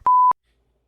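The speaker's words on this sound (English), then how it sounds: "Oh, my phone's going crazy." A single clean electronic beep from a phone, loud and steady for about a quarter second, then cuts off into silence.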